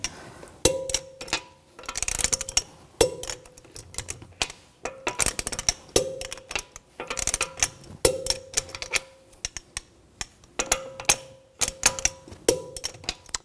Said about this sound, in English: Now we're going to torque the lug bolts to 98 foot-pounds in a cross pattern to tighten the wheel down evenly.